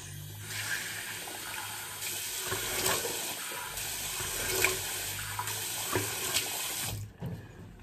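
Cold water running from a tap into a sink while a face is rinsed during a shave, a continuous close splashing stream with shifting surges as hands move through it, stopping abruptly just before the end; no speech.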